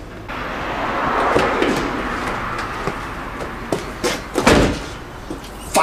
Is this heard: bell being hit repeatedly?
no